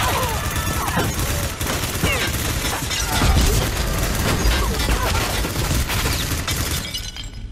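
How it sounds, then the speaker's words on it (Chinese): Rapid bursts of gunfire and shattering impacts from an action movie scene, loud and dense throughout, continuing with only brief easing before fading at the end. "他们四处开枪杀人。"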